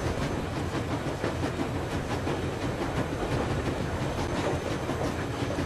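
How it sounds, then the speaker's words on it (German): Train riding on rails in the video game Metro Exodus, a steady rumbling roll with rhythmic clickety-clack of wheels over rail joints and a faint hiss, continuous throughout with no talk. "Einfach ein bisschen Zug fahren."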